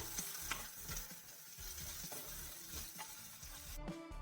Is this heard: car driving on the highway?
no